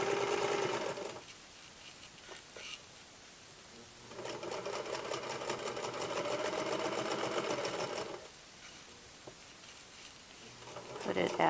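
A sewing machine stitches a dress shirt collar in two long runs of rapid, even needle chatter, separated by quiet pauses with a few soft handling clicks, starting again near the end.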